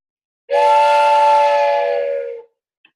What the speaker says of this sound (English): I had to get my train whistle.